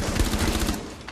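Rapid bursts of gunfire in the video game Rainbow Six Siege crack in quick succession, loud and close, with the shooting thinning out and fading toward the end.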